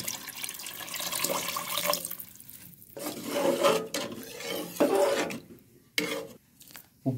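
About two and a quarter litres of water poured into a cooking pot of simmering masala and oil for seeragasamba kuska, heard as several faint, separate splashing pours with short pauses between.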